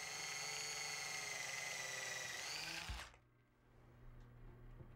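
A power drill whines steadily at high speed while drilling holes in wood, then cuts off abruptly, leaving quiet room tone with a few faint knocks.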